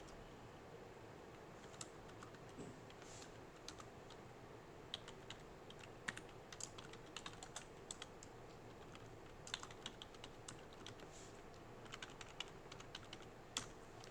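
Quiet typing on a computer keyboard, soft scattered key clicks coming in uneven bursts over a faint steady background hum.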